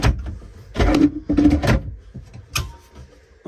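Bathroom drawers in a 2012 Pleasure-Way Excel-TS Class B camper van slide open and shut in a few close, sliding rumbles and clunks, with a sharp knock near the end.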